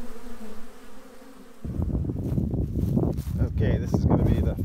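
Honeybees hum around a hive fitted with a pollen trap, a steady close buzz under louder crackling rustle and handling noise that takes over partway through.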